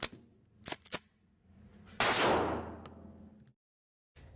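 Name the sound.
voice imitating Ruger AR-556 gunshots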